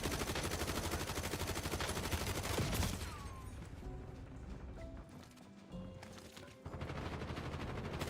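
Rapid automatic gunfire with heavy recoil in a video game, loud dense bursts that stop briefly partway through for a quieter stretch of game sounds, then a burst of shots returns near the end.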